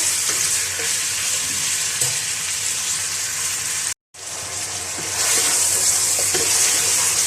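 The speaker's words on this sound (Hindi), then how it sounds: "अदरक लहसुन और प्याज के साथ अच्छा सा गोश्त को इतना फ्राई करेंगे" Steady loud sizzling of goat meat frying with ginger, garlic and onion in a hot pan for balti gosht, with occasional stirring scrapes, a brief cut midway, then the sizzle surges a bit louder.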